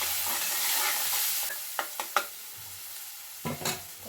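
Tomato and mung dal (pesarapappu) frying in oil in a pan, a soft steady sizzle with a few short stirring scrapes and clinks close by, no talking.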